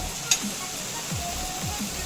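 Drained banana flower drops into a pan of frying spice masala, a soft, steady sizzle close by with a light clatter of stirring and a quick knock near the start.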